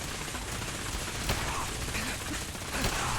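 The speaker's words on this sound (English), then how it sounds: "God, this gun takes forever to shoot and reload." A slow-firing weapon in Fallout 4 goes off in a few spaced, sharp reports over a dense, noisy background of game sound, with faint mechanical clicks between shots.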